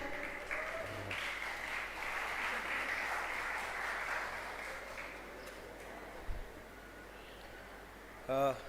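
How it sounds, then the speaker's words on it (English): An audience at an architecture college event gives a round of applause, a steady wash of clapping that fades gradually into quieter hall noise, with a few thumps near the end. "A round of applause for our student."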